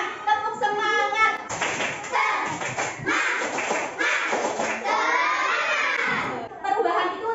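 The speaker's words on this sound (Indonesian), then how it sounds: "Coba sekarang semuanya tepuk semangat." Primary-school children in a Grade 5 classroom perform a rhythmic spirit clap, loud close claps and desk thumps in patterned bursts mixed with the class shouting and chanting together.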